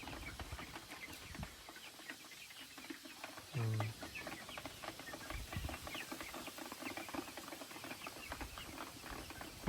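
Rhode Island Red breeder chickens about two months old cluck steadily as a flock, soft overlapping calls close by with one brief louder call rising mid-way.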